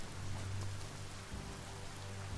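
Rain falls in the video game Biomutant, a steady close hiss of drops on surfaces with a low hum beneath and no talk.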